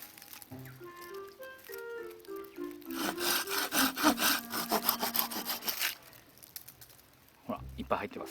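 A pine log, fallen and hardened like driftwood, is cut by hand saw to reach resin-soaked fatwood, giving about three seconds of loud, close, rhythmic rasping strokes, with softer speech-like sounds before and a brief knock near the end.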